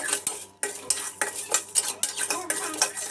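Dry red chillies roasting in a pan on low flame for huli avalakki masala, stirred with a metal spoon in repeated clinking scrapes about twice a second over a faint background sizzle, close by.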